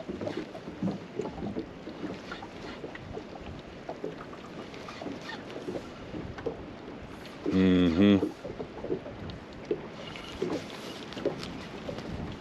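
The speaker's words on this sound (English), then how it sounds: "Wind's picking up on me too." Wind picks up on the river while fishing from a small boat, gusts buffeting the microphone in a steady rush, with a brief louder thump partway through.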